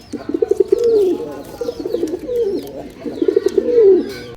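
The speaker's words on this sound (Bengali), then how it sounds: "এখানে ছাদে দেখো কত সুন্দর অনেকগুলো কবুতর আছে" Pigeons on a rooftop give repeated soft, throaty cooing in close, rolling phrases, with faint chirps in the background.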